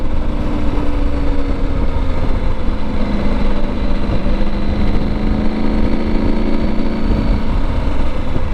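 Loud, steady engine drone of a KTM 790 Adventure R motorcycle under throttle, with a rising tone and continuous rumble plus wind noise close to the rider and no pauses.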